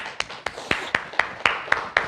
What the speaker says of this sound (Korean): 박수 한번 쳐드립시다